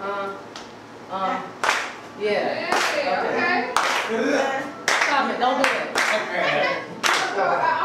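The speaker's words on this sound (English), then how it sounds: "So just start clapping." Hand clapping during a songwriting session: a run of sharp, fairly steady claps, close and loud, with people chatting and a voice over them.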